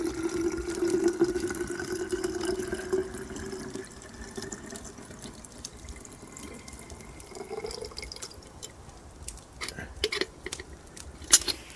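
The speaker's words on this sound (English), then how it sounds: "we're just going to use the top of our lid and pour into our Nalgene" Homemade wild tea pours from a bottle lid into a Nalgene bottle, a steady liquid stream and splashing that weakens midway, followed by a few scattered drips and clinks near the end, close and fairly quiet.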